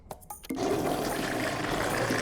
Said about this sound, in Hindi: ये टॉयलेट फ्लश की आवाज है।